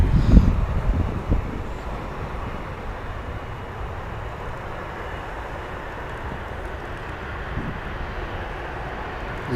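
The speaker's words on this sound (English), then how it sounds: "The Ryanair taxiing in over there." A Ryanair airliner taxis at Manchester Airport, a steady, distant jet-engine whine and roar that holds even throughout, with a brief rustle near the start.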